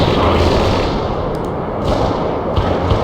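Weapons fire in the military strategy video game World in Conflict, dense booming gunfire and heavy thuds from artillery or missiles, loud and continuous with sharp bursts near the end.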